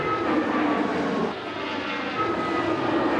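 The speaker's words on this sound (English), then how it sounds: "On a runway just yards from the recovery effort, planes come and go once more." An airplane roars steadily on a runway near a recovery effort in Washington, a loud, continuous engine drone filling the whole stretch with a brief dip partway, with no talk.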